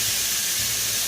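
T-bone steak sizzling on a hot, smoking pan, a steady loud hiss filling the short moment without pause.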